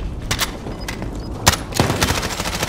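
Bursts of gunfire from a Call of Duty: Warzone match crack out in sharp, loud volleys, with several separate shots and one heavy blast near the middle, over a steady background of game noise.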